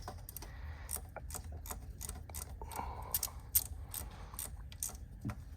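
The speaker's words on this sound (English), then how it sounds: "I'm gonna grab my 8mm and tighten down my power steering line" An 8mm ratchet clicks in quick bursts while tightening a power steering line bracket on a Chevrolet Captiva with the GM 2.4 Ecotec engine, close-up, with small metallic taps in between.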